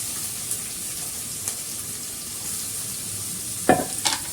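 Curry leaves, sliced onions and green chillies drop into hot oil, giving a faint steady sizzle with a louder crackling burst near the end, no voices present.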